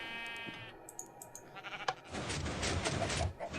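Sheep bleat in the Minecraft FTB video game, several short nasal bleats early on, then a denser burst of farm-animal noise and clatter toward the end, fairly loud and with no speech.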